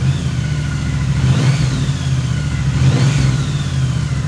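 A 2016 Triumph Bonneville T120 with a 1200 cc engine, started from cold, settles into a loud, steady, close-up rumble with two brief blips of the throttle.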